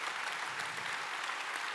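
Even, continuous applause from the audience at a regional business awards ceremony in Côte-d'Or, sounding somewhat distant and soft, sustained without talk over it.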